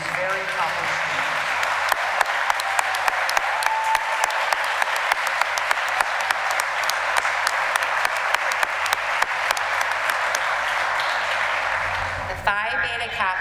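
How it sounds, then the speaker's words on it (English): Sustained audience applause for National Merit finalists at a senior recognition night, dense steady clapping filling the room from start to finish, tapering briefly near the end. "Join me in a round of applause for these very accomplished students."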